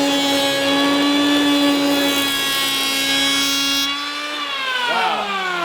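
FERM PPM1010 electric planer planing rough timber, a loud steady whining motor hum with a strong tonal drone that drops in pitch near the end as the cut finishes.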